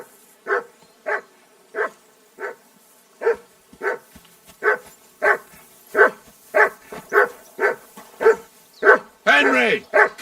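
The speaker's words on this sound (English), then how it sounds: "That barking was a pain in the ass." A dog in Kingdom Come: Deliverance 2 barks repeatedly in a steady rhythm, about a dozen sharp nearby barks, ending in a higher yelping whine.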